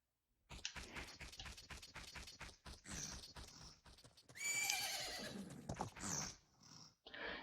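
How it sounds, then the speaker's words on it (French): Epona, the horse in the Zelda Majora's Mask video game, trotting with rapid clip-clop hoofbeats that build into a loud, shrill neigh, then fade. "On dirait ton cheval."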